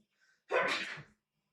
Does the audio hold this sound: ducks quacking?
no